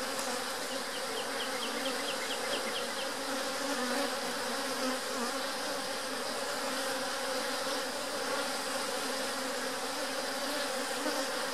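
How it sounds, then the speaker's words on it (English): A dense, continuous hum of many honeybees buzzing close together, steady and loud with no pauses. "When there's a cluster of bees like this, it makes me think the queen might be in the middle of it"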